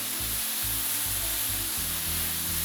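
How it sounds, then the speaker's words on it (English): Fried rice being stirred with sauce in a hot pan, a steady sizzle and frying hiss with soft scraping stir strokes, close and continuous, no talking. "Let's go ahead and add in our sauce. And stir this up until every piece of rice is coated in this."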